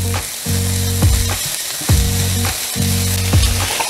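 Turkey sizzling in a pan with garlic, thyme, salt and pepper, a loud close steady frying hiss broken by rhythmic scraping strokes as the mixture is stirred.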